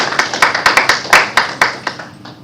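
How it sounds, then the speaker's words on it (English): A small audience at a World Economic Forum session claps in a sparse, rhythmic burst of about a dozen sharp, close claps that fade out after two seconds. "Please give a big hand of applause for Vinay and Harbin."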